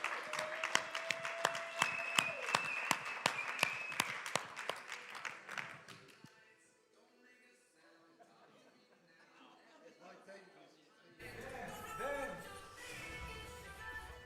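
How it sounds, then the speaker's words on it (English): Applause at the ComCon tech conference as a speaker comes on stage, a run of sharp rhythmic claps that fades out, followed by a quiet gap and then murmuring crowd chatter with light laughter. "let's give a very, very big ComCon round of applause to Mr. James Bodie."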